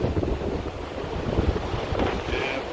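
Strong wind of about 25 knots roars across a sailboat under full sail making 8 to 9 knots, with steady buffeting against the microphone and faint wash of waves beneath.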